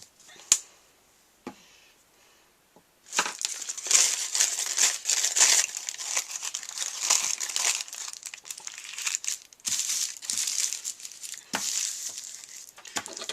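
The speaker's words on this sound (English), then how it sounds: "try to add one more layer of wax paper" Wax paper being handled and crinkled while layering a Mod Podge craft, a brief crackle and a few taps, then steady, close crinkling and rustling that continues in dense bursts.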